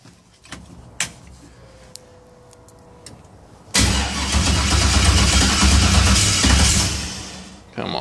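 BMW E36 with a swapped 5.3 LM7 V8 cranks and fires up abruptly after a few clicks and clunks, settling into a loud, rumbling idle close by that dips near the end.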